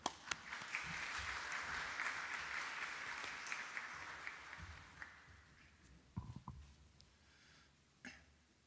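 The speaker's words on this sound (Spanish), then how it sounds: "Un aplauso" Audience applause welcoming a speaker at a formal event, a broad wash of clapping that swells then fades over several seconds, followed by a few scattered coughs and throat clearings in a quieter room.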